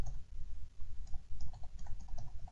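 Typing on a computer keyboard in a word processor, with quick irregular clicks of keys, close and fairly soft over a low background rumble.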